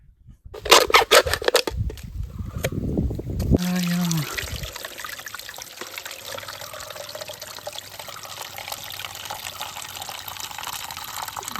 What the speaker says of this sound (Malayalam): കുറച്ച് വെള്ളം എടുത്തിട്ട് ഇവിടുന്ന് കഴുകാം